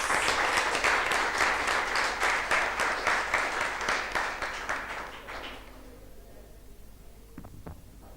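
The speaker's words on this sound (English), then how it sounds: "Please give all of our students a rousing round of applause." A hall audience applauds debate students at a secondary school debate, brisk rhythmic clapping loud at first then thinning and fading out after about five seconds into quiet room tone.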